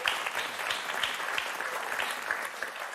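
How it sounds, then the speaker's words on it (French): Studio audience of a French television word game show clapping loudly for contestants, a bright, continuous burst of many hands with sharp individual claps standing out. "on va vous applaudir très très fort"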